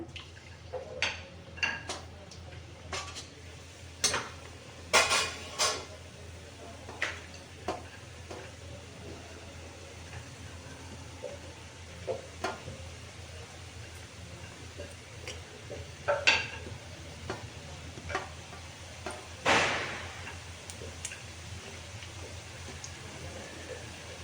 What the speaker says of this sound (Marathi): आपण एक एक काप तळून घेऊया